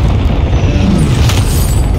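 A loud, booming airstrike explosion in a video game rumbles heavily in the low end, with a crackling burst and debris rising briefly in the middle of the blast.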